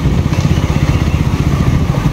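A KTM Duke 200 BS6 motorcycle engine while riding on a rough road, a loud close continuous low rumble with fluttering pulses throughout, no talk.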